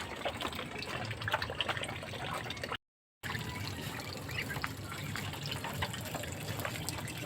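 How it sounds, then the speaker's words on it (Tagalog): Steady gushing of water running from an open tap, continuous and fairly close, with a brief cut to silence partway through. "binuksan ko na lang yung gripo para hindi na ako maghakot ng tubig"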